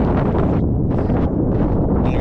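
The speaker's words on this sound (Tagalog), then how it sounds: "Meron lakas na ng hangin ngayon gawa ng habagat" Strong monsoon wind buffets the microphone during a boat trip, a loud, continuous low roar with gusty surges throughout and no voices.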